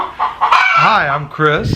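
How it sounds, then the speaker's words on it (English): Backyard hens cluck and squawk close by in a loud, busy burst with rising calls, while someone speaks over them. "As you can hear our girls in the background, they are clucking at us."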